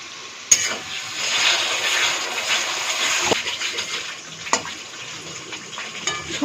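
Spice paste with sauce is sautéed in a pan for a Bengali bhola fish dish, heard as a moderate, steady sizzle with a few sharp clinks from the stirring utensil.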